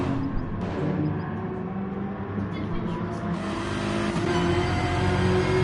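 Race cars, including a Porsche 911 and a BMW M6, lap Interlagos in the eDTM sim racing game. Engines drone and rev steadily, close and continuous, rising slightly toward the end with a shifting pitch.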